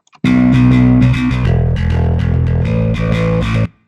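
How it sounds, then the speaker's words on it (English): A bass guitar plays a steady run of plucked notes with a roomy, reverberant tail, loud and close, with no talking. "Now let's send this over to the room reverb as well"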